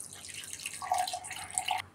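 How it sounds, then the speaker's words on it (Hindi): Water pours into a mixer-grinder jar holding a thick ground batter with curd, a short light splashing trickle that lasts about a second, heard close with no talking. "तो इसमें हम पानी ऐड कर लेंगे।"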